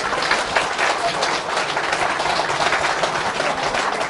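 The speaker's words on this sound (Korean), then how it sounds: "박수." Audience applause fills the room at a lecture by a Korean political speaker, a dense, steady wash of clapping from many hands at a constant level for the whole stretch, with no voices over it.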